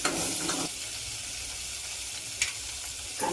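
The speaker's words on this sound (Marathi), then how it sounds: "आता मोहरी घालते अर्धा चमचा" Half a spoon of mustard seeds hitting hot oil in a pan for a potato tomato curry, giving a bright, steady close sizzle with a couple of brief crackling pops.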